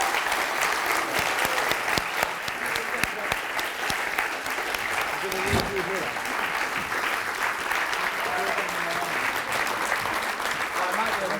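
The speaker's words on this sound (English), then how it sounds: "put your hands together and have a big applause for Michael Sheen and Michael" A live audience gives a sustained round of loud applause as actor Michael Sheen and lawyer Michael Mansfield come on stage. Dense, even clapping continues throughout, with scattered voices in the crowd.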